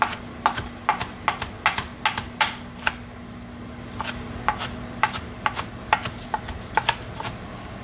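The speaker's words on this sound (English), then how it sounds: "I'm going to chop this." A knife chops garlic on a cutting board in quick irregular bursts of sharp taps, close and clear, with a faint steady hum underneath.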